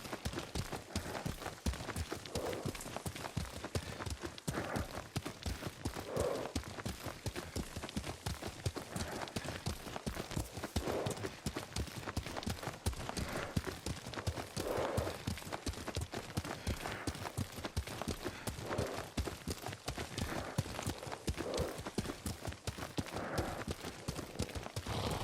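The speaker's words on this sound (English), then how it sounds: "Lord Sakai taught me to ride a horse." Hooves clip-clop in a fast, steady gallop as a horse is ridden in the video game Ghost of Tsushima, a rapid, even rhythm running continuously close by, with no talk over it.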